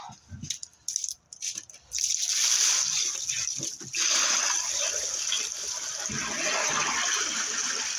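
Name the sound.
garbage can full of water dumped out, rushing water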